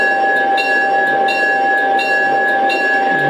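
Aristocraft ALCO RS 3 model locomotive with a battery conversion rolling backwards, giving off a steady tonal hum with faint rhythmic clicks repeating about every half second, close and continuous.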